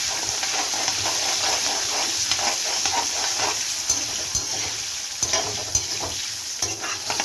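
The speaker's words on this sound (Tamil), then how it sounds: "சின்ன வெங்காயத்தோடு மொத்தமாக போட்டு நல்லா வதங்கட்டும்" Small onions sauté in a hot pan for vatha kuzhambu with a steady, close sizzle, broken by occasional scrapes and clicks of stirring.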